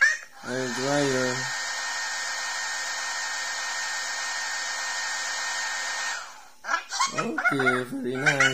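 Hair dryer from the Talking Ginger game, blowing as a steady broadband whoosh for about five seconds, with brief cartoonish vocal sounds before it and after it.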